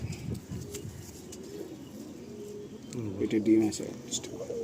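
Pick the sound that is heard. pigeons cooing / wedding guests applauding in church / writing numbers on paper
pigeons cooing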